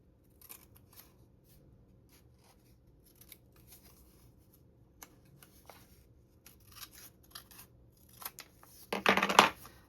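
Soft, intermittent paper rustles and creases from folding a small coin envelope by hand, faint and close, ending in a louder crinkling burst.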